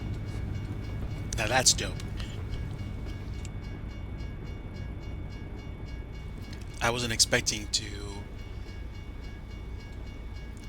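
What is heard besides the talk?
train passing by in the video game American Truck Simulator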